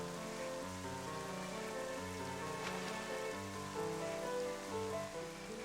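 Steady rain falling in the video game Twilight Princess, a continuous wash of drops on the ground blended with low game music tones, moderately loud and unbroken throughout.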